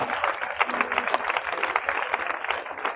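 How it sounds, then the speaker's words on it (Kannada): An audience at a yoga demonstration gives sustained applause, dense overlapping claps at moderate distance continuing steadily throughout with a faint voice underneath. "ತಮ್ಮೆಲ್ಲರ ಜೋರಾದ ಚಪ್ಪಾಳೆಯನ್ನ ಪರಮ ಪೂಜರಿಗೆ ಅರ್ಪಿಸಬೇಕು"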